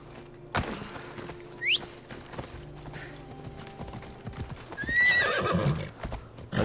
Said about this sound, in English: Grab a horse.